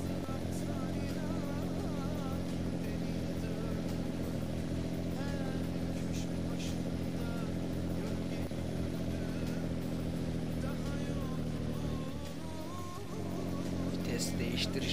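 A heavy Scania 141 truck engine in the video game Euro Truck Simulator 2 drones and revs continuously while someone talks over it, the exhaust note rising and falling.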